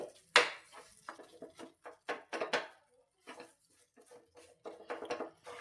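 A spoon or spatula scraping and knocking inside a kadhai while stirring a thick sesame and jaggery mixture, irregular clacks and scrapes in uneven bursts with short pauses, close and fairly quiet, no talk.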